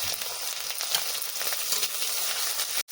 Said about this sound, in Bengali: মশলা ভালো করে কষিয়ে নিয়েছি